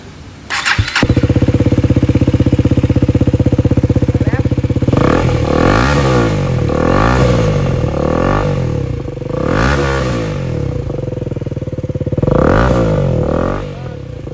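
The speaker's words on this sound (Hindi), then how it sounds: "तो अब हम लोग आफ्टर मार्केट एग्जॉस्ट का आवाज़ सुनाते हैं एक एक करके" A KTM Duke 250 motorcycle fitted with a cheap aftermarket exhaust starts up and idles close by. It then gives several sharp, loud throttle revs that rise and fall in repeated bursts, with no speech over it.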